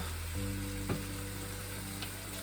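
Butter sizzles and fries steadily in a pan for tomato gravy, a constant close hiss with a few brief louder pops over a low background hum.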